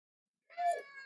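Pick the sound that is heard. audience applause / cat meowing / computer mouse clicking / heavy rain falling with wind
cat meowing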